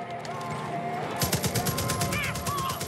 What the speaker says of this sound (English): Where's the machine gun? Here.